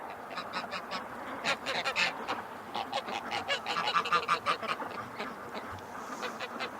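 A flock of Muscovy ducks, a few of them lame, calls out together in a dense stream of honks and quacks while heading to the water. The birds are fairly close and the calls keep overlapping without a break.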